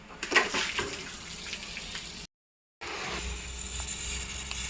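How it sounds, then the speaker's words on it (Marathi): Water runs steadily from a garden tap, a soft hissing splash that drops out in a short silent gap and then resumes at the same moderate level. "आणि हे बघा पाणी चालू झालं"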